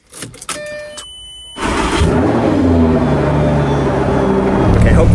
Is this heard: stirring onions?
no